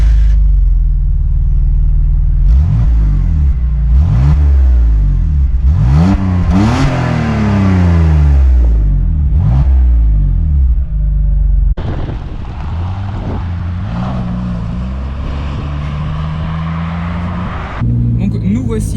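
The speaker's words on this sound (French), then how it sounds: "c'est un 6 cylindres atmosphérique de 170 chevaux" A BMW Z3 2.2 with a naturally aspirated 170-horsepower six-cylinder engine revs repeatedly in rising and falling sweeps, loud and close, then settles into a steadier higher drone toward the end.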